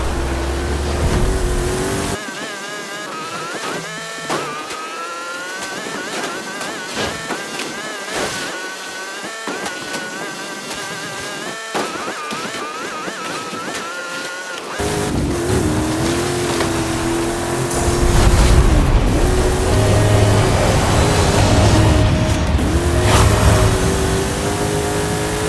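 A Ferrari race car roars through a racing video game, its engine revving and shifting continuously for the whole stretch, loud and up front, with the tone swelling and deepening in the later part.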